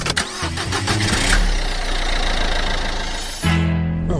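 A car engine in a car park cranks and catches, then rumbles loud and close with a steady idle before a final rev.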